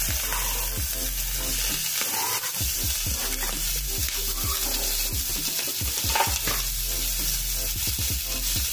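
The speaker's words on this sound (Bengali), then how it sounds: "এখন আমি পেঁয়াজটা ভেজে নেব।" Chopped onion and whole cumin seeds fry in a hot pan with a constant close sizzle, broken by scraping stirs from a spoon; no one speaks.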